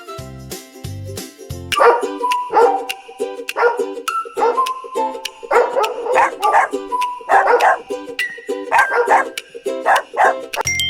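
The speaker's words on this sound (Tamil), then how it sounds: "நாய் எப்படி குரைக்கும்? லொல் லொல் என குரைக்கும்." A dog barks in a rapid series of sharp, loud woofs close by, short bursts in irregular rhythm, preceded by a few bright chime-like tones.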